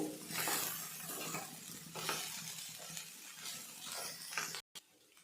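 Spice masala fries in a pan for a vegetable palya, a close steady sizzle with repeated scraping stirs of a spoon against the pan, ending abruptly.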